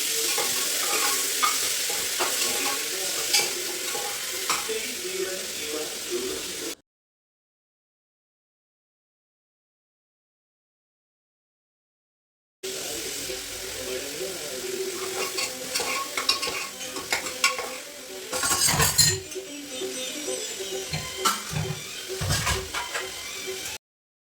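Green chilies and onions sautéing in coconut oil, a continuous sizzle with scraping stirs and occasional pan knocks, broken by a stretch of silence before the frying resumes.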